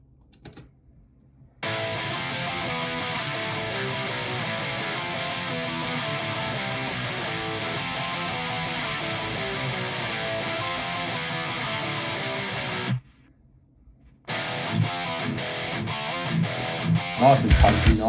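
Distorted punk guitars played through a Soldano X amp model with a Miko 2 cabinet give a loud, dense, steady chug. After a short break they return with choppier hits.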